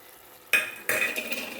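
Two quick stirring strokes through a simmering curry just dusted with chili powder, a spoon scraping the pot with a soft sizzle underneath, close up and brief with no talk.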